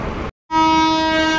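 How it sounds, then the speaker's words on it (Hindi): A passenger train's horn sounds at a station platform: a short burst, a brief gap, then one long loud sustained blast, close by. "हॉर्न ले चुका है गाड़ी ने"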